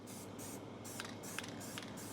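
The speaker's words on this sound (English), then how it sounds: "I'm just spraying it with a light coat of the spray adhesive" Spray adhesive hisses from an aerosol can onto an RC4WD Chevy K10 scale crawler interior in several short, soft bursts of varying length, close but quiet, with no talking.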